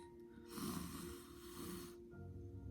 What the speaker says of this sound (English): So I want to invite us to a deep breath. In through your nose